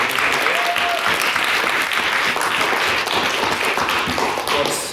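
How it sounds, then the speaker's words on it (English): Steady, dense applause from a debate audience after the evening's speeches, loud and sustained throughout with no pause. "a big round of applause to all of our speakers tonight"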